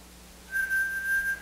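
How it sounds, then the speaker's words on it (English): A person whistles a steady, sustained tone of about a second in an acoustics lecture classroom, clear and fairly close over a quiet room hum. "why don't you whistle some sound?"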